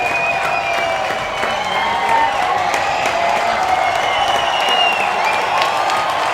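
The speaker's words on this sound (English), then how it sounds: "now they will get loud with a rhythmic clapping for Ryan Kushmal." Minor-league baseball crowd at the Duck Pond during a Long Island Ducks versus Lancaster Barnstormers game, clapping in rhythm and cheering as a loud, steady wall of noise.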